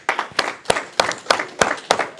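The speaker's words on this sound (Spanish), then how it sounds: "Dale un aplauso fuerte al Rey de Reyes." A church congregation claps in a rhythmic unison beat, roughly three sharp strokes per second, loud and close, with no speech over it.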